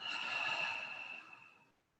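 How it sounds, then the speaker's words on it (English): A single long open-mouthed exhale comes out breathy and close, with a slight whistling edge, starting strong and tapering away to silence over about two seconds. "Open the mouth, exhale."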